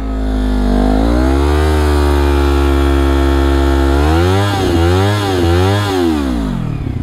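A motorcycle engine revs hard during a rear tire burnout as the clutch is slowly let out, a loud, close, sustained roar that climbs, holds, then wavers through quick rev dips and surges toward the end.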